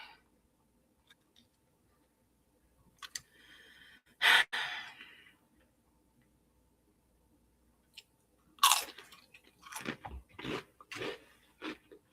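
Someone eats crunchy Doritos with ice cream, loud close crunching bites coming in scattered bursts with chewing and breathy sounds between them, mostly quiet gaps, no talking.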